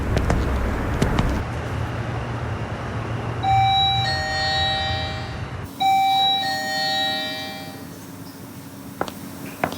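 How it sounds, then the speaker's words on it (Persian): A doorbell rings twice in a home, bright chiming tones with lingering overtones, following a rumbling background that cuts out; loud and near, with no talk over it. "زنگ دروازه است."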